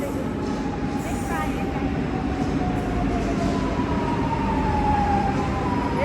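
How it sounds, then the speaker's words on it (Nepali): A metro train pulls into a station in Portugal, its loud continuous rumble and rising whine filling the platform, with people chattering over it. "मेट्रो आइहाल्यो"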